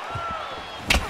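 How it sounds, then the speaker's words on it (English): A single sharp thud of a head kick landing in the UFC 4 fighting video game, a brief loud impact near the end over a steady background hum. "Oh, man, head kick lands."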